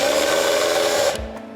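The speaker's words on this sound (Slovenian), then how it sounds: "imamo nastavek za vijake, tako da privijačimo vijake lahko" A power screwdriver drives a screw into a wooden birdhouse, a steady whirring motor buzz for about a second before it stops abruptly, followed by a short low knock.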